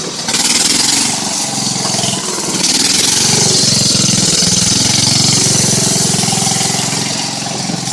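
Miller Roughneck engine with a suspect carburetor, smoking slightly, running at a steady idle: a loud, close, rough mechanical chug that holds throughout after a brief settling at the start.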